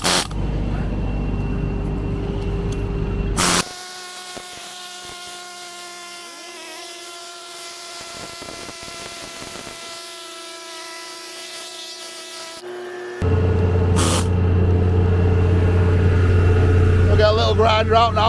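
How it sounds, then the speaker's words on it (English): A pneumatic CP needle gun works on a selector grab blade during demolition machinery repairs, with loud, harsh rattling bursts at the start and end around a steadier mechanical hum. "CP needle gun."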